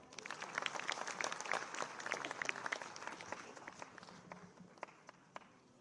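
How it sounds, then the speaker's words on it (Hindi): An audience at a National Youth Day 2024 event bursts into brisk clapping as a guest is invited onto the stage. The applause is fairly dense at first, then thins to scattered claps before fading. "जोरदार तालियां"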